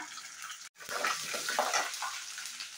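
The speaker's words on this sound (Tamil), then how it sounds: "எண்ணெய் காஞ்சதும் கொஞ்சம் கடலைப்பருப்பு, கொஞ்சம் உளுந்து போட்டு இது நல்லா பொரிய விடுங்க" Chana dal and urad dal frying in hot oil for radish chutney, a close steady crackling sizzle broken by a brief silent gap, no talking.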